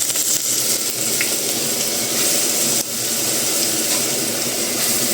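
Milk poured into hot ghee on a gas stove for Gujarati-style doodhi halwa gives a loud, steady, close-up sizzle and hiss that holds evenly throughout, with a brief dip near the middle and no voices.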